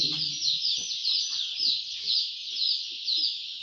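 A dense, continuous chorus of high peeping from many young chicks on a poultry farm, steady and fairly loud, with faint low clucks and murmurs underneath.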